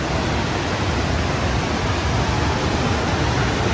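Kuang Si waterfall pouring steadily, a dense unbroken roar of falling water, loud and close with no voices.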